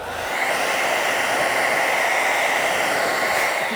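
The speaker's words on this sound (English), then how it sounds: "my hair dryer is running so loud" A hair dryer on full heat, blowing with a loud, steady whooshing roar that runs unbroken from start to finish.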